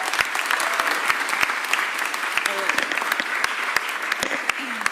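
A crowd at a civic gathering with the mayor claps steadily, dense and close, in unbroken applause for the full stretch with no pause.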